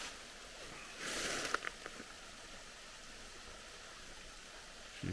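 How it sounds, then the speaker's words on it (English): Small waterfall by a rock cliff on the Rhododendron Trail in Mount Airy, Georgia, a steady soft rush of falling water with a brief louder splash near the start, no one speaking. "But it's another nice little waterfall."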